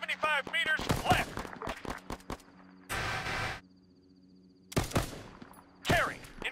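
Machine gun fire in Arma 3 crackles in several sharp bursts between stretches of quiet, with radio-style voice callouts among the shots.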